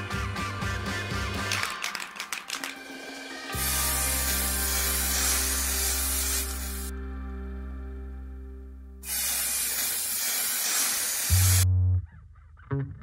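An aerosol spray can lays color and clear coats on a guitar finish, giving two long steady hisses of several seconds each, separated by quiet gaps and preceded by clattering handling noise.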